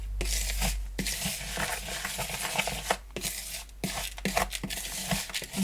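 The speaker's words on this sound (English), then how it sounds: "stir them thoroughly." Herbs being stirred into a salt mixture in a bowl, a steady granular scraping and rubbing with soft crunchy pulses, close and fairly quiet, with no talking.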